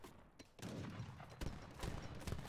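Organ guns firing in the strategy game Age of Empires, a rapid volley of cracking shots in quick bursts with low booms, the battle noise sitting fairly quiet in the mix.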